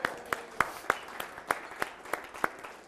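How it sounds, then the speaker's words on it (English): Sparse applause from a small audience at an interactive talk, with a handful of sharp, evenly spaced claps standing out over a soft, scattered patter for about three seconds. "So let's give Parm a round of applause"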